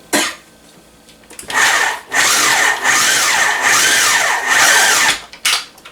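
A food processor pulses leftover pie into a sandy crumb, with loud, harsh whirring bursts of motor and grinding separated by short pauses, close up.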